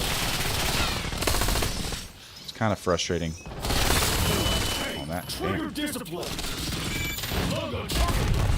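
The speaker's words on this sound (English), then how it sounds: "there's explosions everywhere" Dense bursts of video game gunfire and explosions rattle on almost nonstop, with a short lull in the middle, while a player talks over the action.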